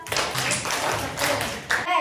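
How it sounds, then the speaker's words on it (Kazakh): A school class claps together in three quick bursts, a bright crowded patter of many hands in a classroom, with a voice heard near the end. "3 шапалақ барлығымызға"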